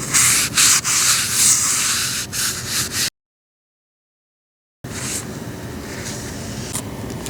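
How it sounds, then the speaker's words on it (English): A grinder sanding back an old fiberglass repair on the bottom of a boat hull, giving a steady, close, rough abrasive rasp with short dips, broken by a sudden gap of silence before the grinding resumes. "I'm going to grind back a ways from it to give me room for tabbing"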